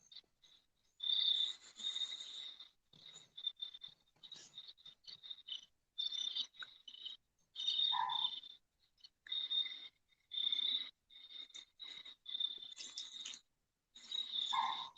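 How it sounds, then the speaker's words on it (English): Crickets chirp steadily in rapid, high-pitched trills, pulsing in bursts with brief pauses, fairly close and clear against a quiet night background on a lake. "crickets close to you are annoying, but when you hear them on video, they're kind of relaxing"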